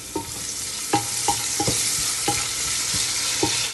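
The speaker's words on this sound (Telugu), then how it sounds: "ఉప్పు వేసి కలపండి." Chopped onions with salt fry in a pan for brinjal bharta, a steady sizzle broken by a series of sharp scraping stirs roughly every half second, with no voices.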